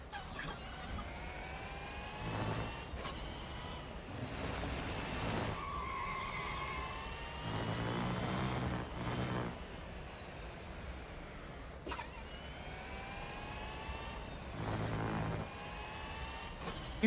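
A Porsche Taycan Turbo GT electric car races in the Real Racing 3 mobile game, its motor whine rising in pitch and dropping again in repeated sweeps, fairly quiet with no talk.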